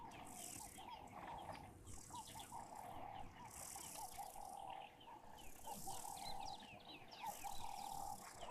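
A Klaas's cuckoo calls at a wild African waterhole, repeating faint whistled notes in a steady pattern. Other birdsong and a constant outdoor hum carry on throughout.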